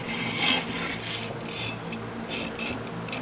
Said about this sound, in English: we're just getting everything clamped together